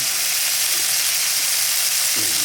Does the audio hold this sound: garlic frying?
yes